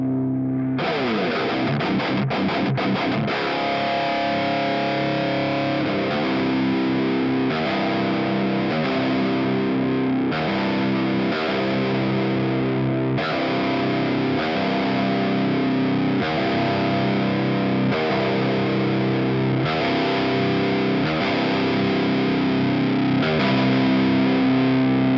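Heavily distorted metal guitar from a tube screamer driving a 5150 amp model with a Mesa 4x12 cabinet and noise gate on a Mooer Prime M2, playing tight, chugging riffs that stop and start cleanly, loud and alone.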